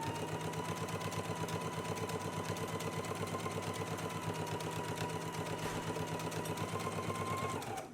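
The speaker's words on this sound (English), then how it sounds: "let's go ahead and stitch using a 5/8 of an inch seam allowance all the way along the collar" Sewing machine stitching a dress collar band with a 5/8-inch seam allowance, running as a steady, close, continuous mechanical whir with a rapid needle rhythm through the whole stretch, stopping right at the end.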